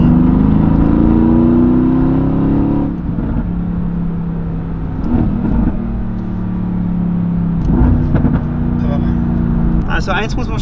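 Tuned Mercedes-AMG GT V8 making about 600 hp, revving repeatedly in loud, close bursts over a steady idle rumble, with short pauses between the rises.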